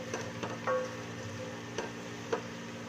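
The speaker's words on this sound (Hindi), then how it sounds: "प्याज हमारे ब्राउन हो रहे हैं, हमने हल्का ब्राउन करना है इसको।" Onions frying to light brown for Punjabi aloo gosht, a soft low sizzle with a few faint clicks of stirring and utensil taps, quiet and close, without speech.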